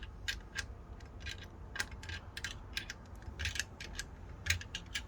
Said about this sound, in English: then you can tighten it down with the wrench